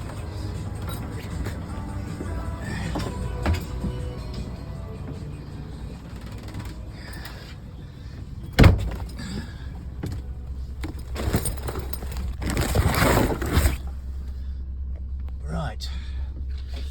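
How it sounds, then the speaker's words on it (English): An engine runs at a steady idle, a continuous low rumble beneath the scene, broken by a sharp knock or jangle and some rustling and handling noises nearby. "Engine's running, as you can hear."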